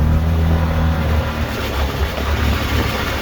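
Pickup truck driving on a sandy forest trail in 2-wheel drive, rattling from the rear at certain engine RPMs; a steady, loud engine and road rumble runs throughout with a continuous rattly texture, no talking.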